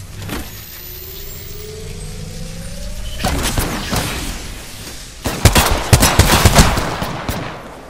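Apex Legends gunfire: scattered shots crackle over engine-like rumble and ambient noise, with a denser cluster of sharp, loud bursts near the end.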